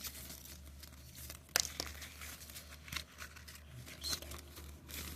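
Sticker sheets crinkle and rustle as they are handled, with soft crackles and a few sharper crisp snaps spread across several seconds, fairly quiet and close, no talking.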